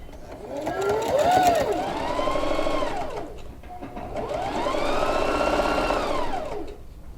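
A home sewing machine stitches a folded pocket onto the front panel of a quilted coat, running in two long steady whirring bursts with a short pause between them.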